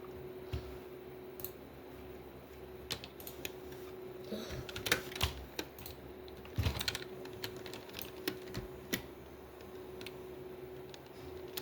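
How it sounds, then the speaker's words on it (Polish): Typing on a computer keyboard, close and clear, with irregular bursts of key clicks over a faint steady hum and no speech. "klawiatura"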